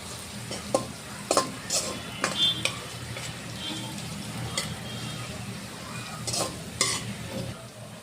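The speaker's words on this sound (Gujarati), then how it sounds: "મરચાં ફ્રાય થઈ જાય એના પછી આપણે આ રીતે લસણ એડ કરી લેવાનું છે" Chilies and garlic fry in a pan for a Gujarati suva bhaji while a spoon stirs them, producing steady sizzling broken by repeated scraping clinks.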